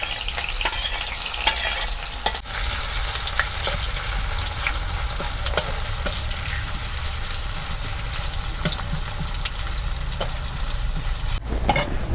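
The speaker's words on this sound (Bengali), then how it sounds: "তেল গরম হয়েছে, এখন আমি পেঁয়াজ কুচি দিয়ে দিই।" Chopped onions frying in hot mustard oil in a pan for beef curry, a loud, continuous sizzle broken by sharp scrapes and clicks of stirring, close up and without speech.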